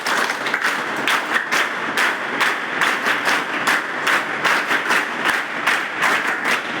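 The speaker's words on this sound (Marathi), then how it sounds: "माझं भाषण आवडलं असेल तर जोरानं टाळ्या वाजवा" A large audience at a Mission IAS gathering in Gadchiroli claps hard and fast after a speech, a dense, loud, continuous round of hand claps with a few sharper individual slaps, no voices on top.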